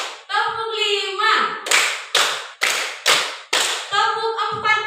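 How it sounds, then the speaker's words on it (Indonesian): Five loud unison hand claps from a group of women in an even rhythm, a call-and-response clapping game, framed by a woman's spoken calls before and after. "tepuk lima,"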